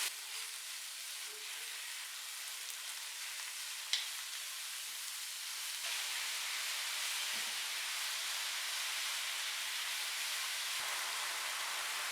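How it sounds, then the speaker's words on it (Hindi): Half a kilo of minced meat fries in a pan with a steady, close hiss and sizzle, a brief clink near the start and the sizzle swelling slightly louder partway through, no voices. "अब इसमें ऐड करेंगे आधा किलो कीमा। अब इसको तकरीबन 4 से 5 मिनट फ्राई करेंगे।"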